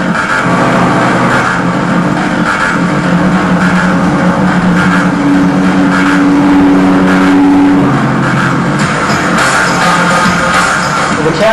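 A cab grinds up a rough mountain trail of alternating snow and gravel, its engine droning steadily and loudly the whole time with a brief higher tone partway through, and no one speaks.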